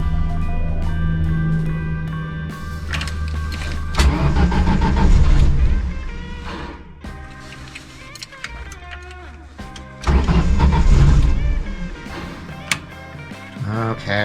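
A car engine cranks with the ignition key in two loud, close bursts of a couple of seconds each, separated by quieter stretches with other background sound.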